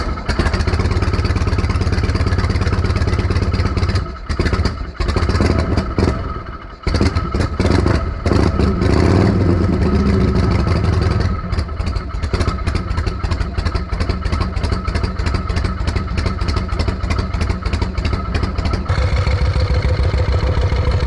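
A Harley-Davidson Panhead motorcycle is kick-started and then idles loud and close while warming up, its rough, lumpy V-twin rumble broken by a few stutters and blips.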